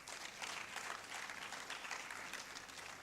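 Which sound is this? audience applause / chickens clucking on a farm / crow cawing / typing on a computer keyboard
audience applause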